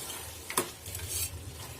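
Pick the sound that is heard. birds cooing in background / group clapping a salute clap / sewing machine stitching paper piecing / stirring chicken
stirring chicken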